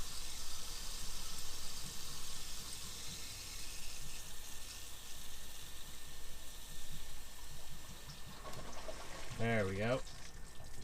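Steady broadband rush of water flowing through a sewer hose during a sewer flush, continuous and fairly loud, with a brief spoken remark near the end.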